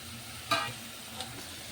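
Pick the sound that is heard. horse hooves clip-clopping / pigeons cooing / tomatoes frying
tomatoes frying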